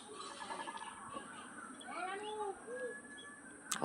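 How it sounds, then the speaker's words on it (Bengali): Soft, low coos from a pair of crested pigeons, one white and one black, heard close but faint, with a few gliding calls in the middle against a quiet background. "আমি পায়রা নিয়ে চলে এসেছি"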